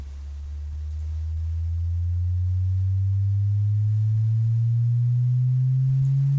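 A deep three-oscillator sub-bass synth tone slowly rises in pitch and swells in loudness, building steadily, smooth and continuous with nothing else heard.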